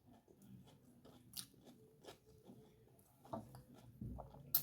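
Raw bell pepper filled with cream cheese being bitten and chewed close up, giving several sharp crunches between quieter wet chewing, with no talking.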